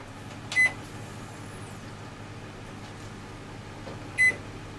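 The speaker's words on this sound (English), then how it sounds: "I've put a timer on 40 minutes on 220 degrees" A kitchen oven gives two short electronic beeps about three and a half seconds apart as its timer is set for baking sourdough bread, each beep sharp and close over a quiet steady hum.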